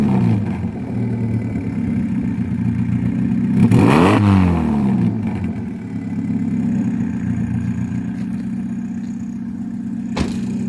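A car engine fitted with a new up-pipe muffler idles on a cold morning, then gives one short rev that rises and falls quickly before settling back to a steady, fairly quiet idle.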